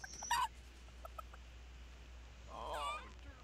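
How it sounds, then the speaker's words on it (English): Chickens cluck in short bursts, with a louder squawk early on and a run of clucking near the end, over a quiet background. "Wow, the chickens really like Joshua, huh?"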